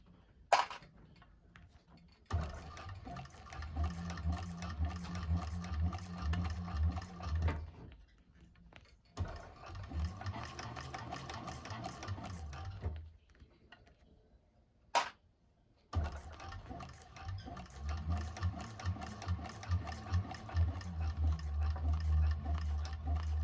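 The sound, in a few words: 1341 cylinder arm sewing machine sewing bag pleats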